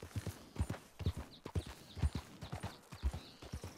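Rhythmic clip-clop of horse hooves in the video game Red Dead Redemption, evenly paced and close, with a faint game ambience and no talking.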